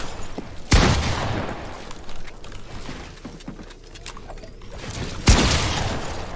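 Gunfire in the video game Fortnite: two sharp, loud shots a few seconds apart stand out over a low rumbling game background.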